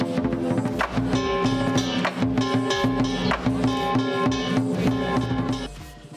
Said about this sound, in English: Just follow the drums, which sound like this.